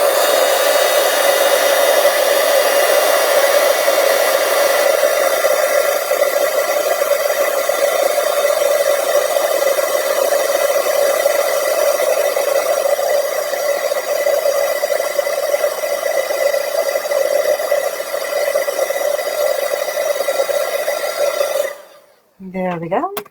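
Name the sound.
heat embossing tool blowing hot air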